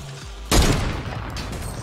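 A single loud sniper rifle shot in a Fortnite match, a sharp crack followed by a rolling echo that fades over the next second.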